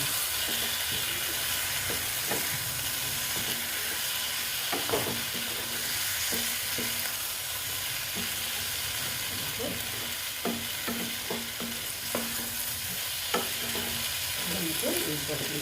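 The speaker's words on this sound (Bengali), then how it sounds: "এবার আমি এটাকে ভালো মতন কষিয়ে নেব" Egg capsicum masala with eggs sizzles in a pan as it is sautéed, a constant frying hiss underlying repeated scraping stirs and occasional clinks of the spoon against metal.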